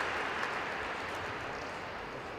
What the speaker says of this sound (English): you can hear that in the reaction from the crowd and his fellow gymnasts